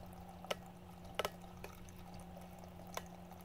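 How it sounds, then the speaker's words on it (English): Kalkwasser drips slowly into a reef aquarium, a handful of sharp, faint plinks spaced irregularly over a steady low pump hum. "I adjust it to about 1 drip per second"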